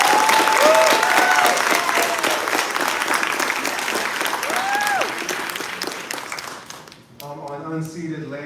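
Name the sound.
audience round of applause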